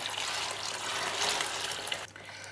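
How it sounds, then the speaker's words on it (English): Hot brine poured from a saucepan into cold water, a steady trickling splash that runs for a couple of seconds and then tapers off abruptly near the end, fairly faint and with no talk. "I'm going to take my hot brine and I'm just going to pour it in to the cold water"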